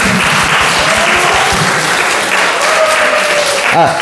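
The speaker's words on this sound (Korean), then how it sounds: "축하한다고 우리 박수 한번 할까요?" A church congregation claps steadily together during a Sunday service, a dense, close round of applause holding at even loudness for about four seconds.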